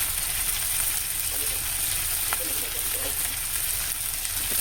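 Tomatoes seasoned with salt, turmeric, cumin, coriander and chilli powder fry in a pan, giving a steady, even sizzle close by that holds without a break through the whole stretch.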